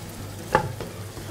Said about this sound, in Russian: Все это жарится.